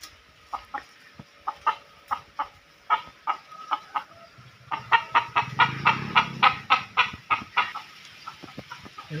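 Chickens near a small house in the forest give a steady series of short clucks, some near and some farther off, with a low rustle partway through and no talk.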